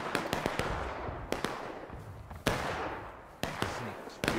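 Musket volleys ring out in the Civil War video game War of Rights, several sharp cracks in uneven succession, some near and some more distant, amid faint background voices.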